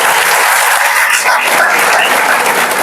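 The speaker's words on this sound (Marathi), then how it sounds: "टाळ्या वाजवायला पाहिजे विद्यार्थी." Students clapping together at a pharmacy institute function, a dense, steady wash of applause that holds at full loudness for the whole stretch with no voices over it.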